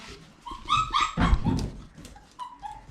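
Puppies yip, bark and whimper in quick overlapping bursts, high-pitched and close, with brief pauses between cries.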